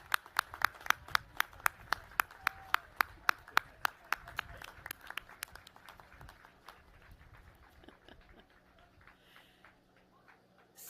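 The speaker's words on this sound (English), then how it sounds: "give them a round of applause" At a graduation ceremony, a few nearby hands clap in a quick, regular rhythm over a thinner, distant audience applause. The close claps slow and fade after about eight seconds, leaving quiet room sound.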